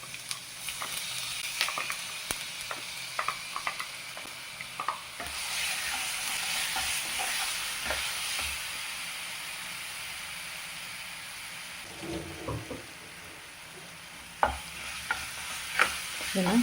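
Ground masala is stirred into peanuts and curry leaves frying in hot oil, giving a steady close sizzle with scraping stir strokes and occasional clinks of the spoon against the pan.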